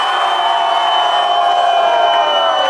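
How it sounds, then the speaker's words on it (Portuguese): Crowd at a rap battle final roaring and cheering with sustained shouts and whoops, a loud continuous wall of voices from a packed audience. "Palmas e máximo respeito"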